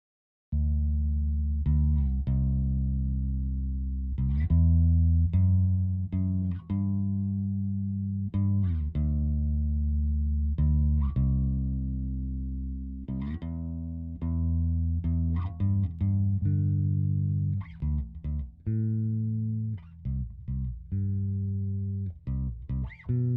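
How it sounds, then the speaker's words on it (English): Bass guitar played as a high-passed track layered with a low-passed one, sustained plucked notes and a rhythmic line with deep low end, clear and alone without voices. "Now let's listen to this high passed bass along with the low pass bass."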